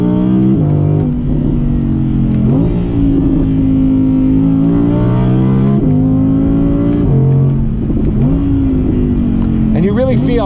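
An Audi R8 Spyder V10 Performance convertible accelerating from inside, its engine note rising and falling through several gear changes, loud and close throughout.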